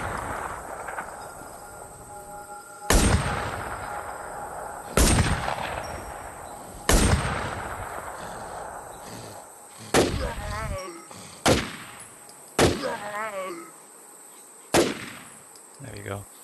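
Loud, sharp gunshots fire at irregular intervals during weapon practice in the video game WarZ, each with a booming echo tail, with quieter in-game sounds between the shots.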